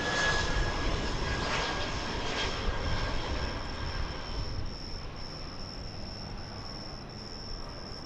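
A jet arrives at DFW Airport on runway 18 right, its engine roar loud and steady at first, then fading as it passes, with crickets chirping steadily underneath.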